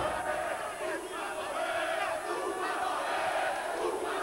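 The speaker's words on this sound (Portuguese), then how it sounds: "a galera tá toda na torcida aí pro Jurandir Sardinha." A crowd roars and shouts steadily throughout a local jiu-jitsu match in Lauro de Freitas, a dense, continuous wall of cheering voices with no pauses.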